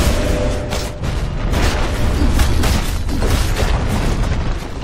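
A tower collapsing in a Dota 2 match, a deep rumbling boom with crumbling bursts rolling on for several seconds, loud and dense, without talking.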